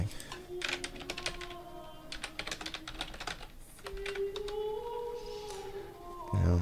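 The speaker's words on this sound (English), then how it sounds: "I'm typing." Rapid bursts of keystrokes clatter on a computer keyboard in clustered runs with short pauses, close and fairly loud, while a steady electronic tone hums underneath.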